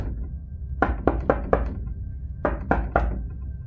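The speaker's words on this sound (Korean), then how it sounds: "누군가 문을 두드리는 소리가 났습니다" Knocking on a studio apartment door late at night, heard from inside: four firm knocks in quick succession, a pause, then three more, fairly close and clear against a quiet background.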